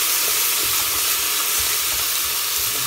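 Beef pieces for a daube browning in a pan give a loud, continuous close sizzle with faint stirring scrapes underneath, no talking.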